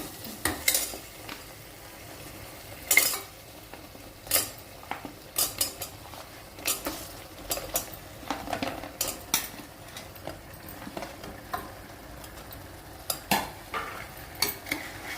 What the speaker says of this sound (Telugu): ఇప్పుడు కాళ్ళు వేస్తున్నాను.